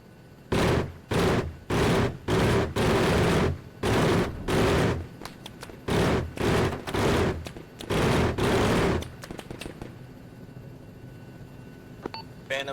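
An aircraft gun run fired for suppression: loud repeated bursts of rapid gunfire in uneven groups, followed by quieter radio static and faint beeps.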